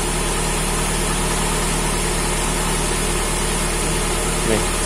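A car engine idles steadily with its battery under test, a constant dense hum and vibration filling the whole stretch with no notable change.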